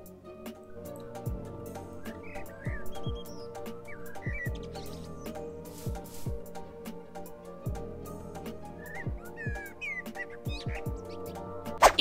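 Birds chirp in Minecraft PE with realistic ambience addons: faint scattered tweets and short calls over a quiet game soundscape, with intermittent soft clicks and ticks throughout.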